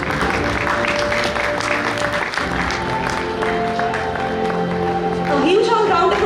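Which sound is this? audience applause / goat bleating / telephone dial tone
audience applause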